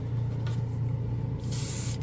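A spray can of Tamiya basic clear gives a steady close hiss, pausing briefly before a final short, strong burst near the end.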